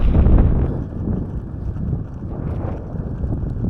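Strong wind buffets the microphone beside a lake, a steady low rumble with gusts, loudest at the start and then holding fairly even throughout.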